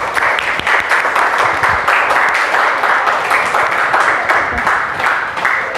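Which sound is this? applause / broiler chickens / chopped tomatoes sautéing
applause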